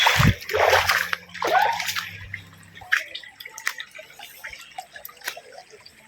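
Water splashing close by as someone wades across a river, with an uneven run of sloshes and drips that thin out over a few seconds.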